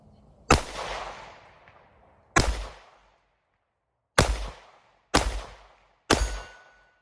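Five shots from a Sig Sauer P365 X Macro Comp pistol firing Remington UMC 9mm 124 grain full metal jacket rounds down a range, each a loud close crack with a decaying echo, irregularly spaced with no talking.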